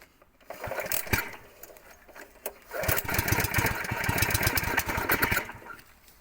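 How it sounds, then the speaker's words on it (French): Repeated pull-start attempts on a rototiller engine: rapid sputtering chugs and brief coughing bursts that never settle into a steady idle, close and moderately loud. "je ne devrais pas la noyer, le motoculteur, et la démarrer"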